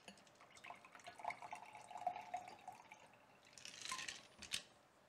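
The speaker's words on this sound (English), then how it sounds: "then actually I'm going to pour some more out" Liquid is poured into a glass while a cocktail is being made, with a soft, trickling splash, faint drips, and light clinks against the glass, all at low volume.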